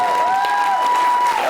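Studio audience of a Pakistani talk show clapping for a guest, a moderate wash of applause running beneath a sustained musical tone, even and unbroken.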